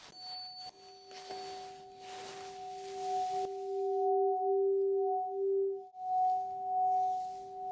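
Pure electronic test tones from a hearing test sound steadily, one higher pitch and one lower pitch held together, later pulsing. Faint rustling touches occur early, and no one speaks.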